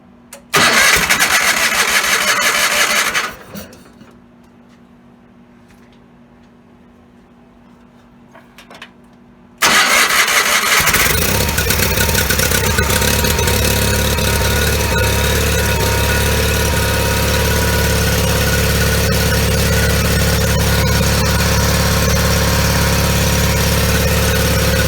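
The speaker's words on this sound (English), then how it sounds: "the tractor started up, seems to be running fine" A John Deere 420 tractor engine cranks and catches, runs loudly for a few seconds, then cuts out. After a quiet pause it fires again and settles into a steady, rough, loud running that carries on to the end.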